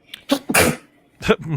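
Close, loud sneezes on a film podcast recording, with two explosive bursts early on and another about a second later, each a hissy breathy blast with a voiced edge.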